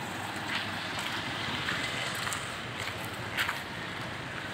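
Strong typhoon wind blows in a sustained broadband roar with faint gusty swells and a few brief rustles, fairly quiet throughout, with no one talking.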